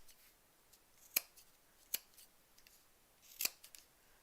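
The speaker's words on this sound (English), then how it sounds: "It's tough to get through this many layers of fabric." Sharp scissors snip through a thick stack of fabric scraps during a crafting session, with three crisp close cuts and a couple of softer clips between quiet pauses and no talking.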